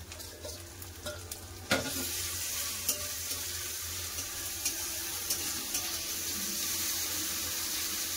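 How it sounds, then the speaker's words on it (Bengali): Fish oil fries with chopped onions in a pan, giving a steady, close sizzle and hiss throughout, broken by occasional light clinks and scrapes of stirring. "পেঁয়াজের সাথে ভালো করে তেলটা ভেজে নেবো।"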